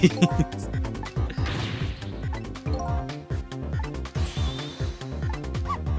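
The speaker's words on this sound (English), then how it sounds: "Just smashed him in the face with a helmet." Cartoonish smashes and thwacks in the puzzle game Ghost Trick as a helmet hits a character's face, a quick run of sharp game impacts and swishes with music underneath, voices chatting over it.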